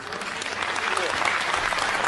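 Dense audience applause fills the space, a broad steady roar of many hands clapping that swells slightly toward the end.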